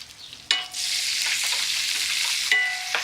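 Butter and sage sizzle in a hot pan while veal chops with cabbage are cooked: a near, steady frying hiss that flares up sharply twice as ingredients go in, with no voices.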